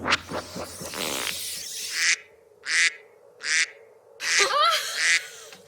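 Duck quacking in a comedy show, a few loud, close nasal quacks in an uneven series, with a brief burst of other sound at the start.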